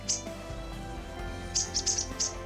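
A thrush sings loudly from a willow shrub on the open Ukok Plateau, giving a few bright, high, chirping phrases. They come in a quick cluster near the end over faint background noise.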